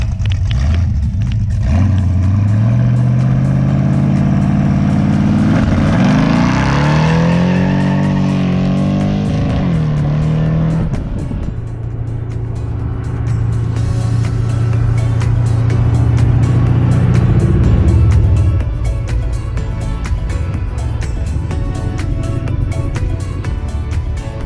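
A Camaro with an adjusted 4-link rear end launches hard with tires spinning. The loud engine climbs through a long rising rev, drops back, then holds a strong roar before easing off.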